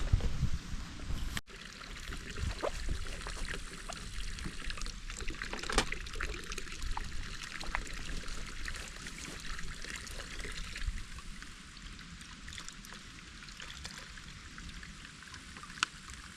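Water pours and trickles steadily into a container at a mountain water source by an abandoned hut in the Dolomites, an even outdoor stream sound with a sharp knock near the start and faint shifting splashes throughout.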